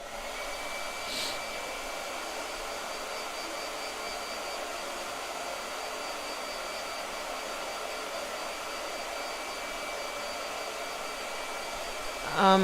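A hair dryer blows steadily to dry a gouache painting, a constant loud whooshing hum running uninterrupted for over twelve seconds, with a brief sound at the very end.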